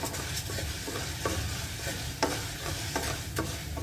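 Orzo sizzles in a pan as it fries until golden, with steady crackling and scraping stirring strokes throughout, close and fairly loud, no speech.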